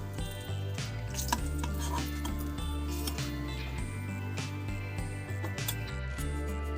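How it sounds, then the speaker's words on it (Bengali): Fried stuffed pointed gourd pieces are lifted one by one onto a plate, with light clinks and taps of a utensil against the dish over a steady frying hiss, close and without talk. "এবার আমি এটা একটা প্লেটের মধ্যে এক এক করে তুলে নিচ্ছি"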